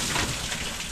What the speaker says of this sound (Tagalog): dire-diretso pa rin ang ulan. Ayaw talagang huminto.